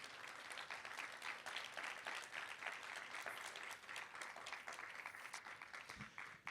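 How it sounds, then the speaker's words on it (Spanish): A church congregation claps loudly and steadily throughout, sustained dense applause from a large room with no one speaking over it. "denle un aplauso fuerte al Señor esta mañana"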